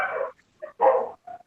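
Dogs barking in several sharp bursts during an online electrical machines class, loud and close through an open microphone, separated by short silences.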